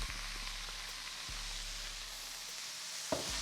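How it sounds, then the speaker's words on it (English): Red onions sizzle in a skillet where short rib was just cooked, a steady broadband frying hiss with a low hum underneath and a soft clack near the end. "in the same skillet, what we're gonna do is put our red onions on in"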